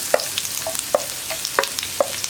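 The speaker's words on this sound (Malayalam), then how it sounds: "ആദ്യം നമ്മുടെ സവോള കട്ട് ചെയ്തത് ചേർത്ത് കൊടുക്കുകയാണ്." Sliced onions going into a hot pan for a jackfruit masala curry, with a soft sizzle beneath several sharp stirring clicks and taps spaced about half a second apart, close by and moderately quiet.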